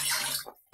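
Water runs briefly over pangas fish being washed, a short rushing splash that fades quickly toward silence.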